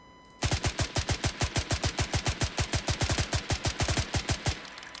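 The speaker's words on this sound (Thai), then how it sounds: "ผมจะยืนยิงก่อนเลยนะครับ" Rapid automatic gunfire in the Roblox game BlackHawk Rescue Mission 5: a steady, evenly spaced burst of about thirty loud shots fired without pause, ending abruptly.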